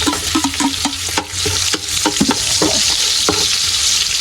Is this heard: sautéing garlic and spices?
yes